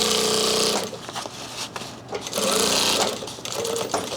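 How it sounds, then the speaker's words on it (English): A sewing machine stitches a backpack's interior fabric to its exterior with a fast, continuous mechanical whir. It sounds close and steady, with slight changes in speed. "we'll just match them up and stitch them to each other"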